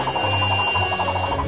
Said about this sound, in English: Now I'm gonna go in and start drilling out all these little details.